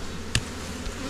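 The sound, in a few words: bees buzzing while a beekeeper handles hive frames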